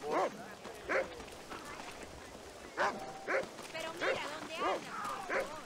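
A dog in Red Dead Redemption barks in a string of about eight short, spaced barks and yips at moderate distance, mixed with game sounds and some background talk.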